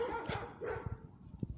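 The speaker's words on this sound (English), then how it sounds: "Shout out to the dogs in the neighborhood" Neighborhood dogs bark in a quick run of several sharp, moderately close barks with short gaps between them.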